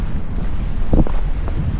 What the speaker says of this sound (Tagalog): Pero sobra na namang mahangin